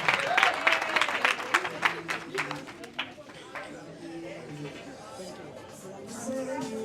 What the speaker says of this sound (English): Let's give him a big hand of applause, please.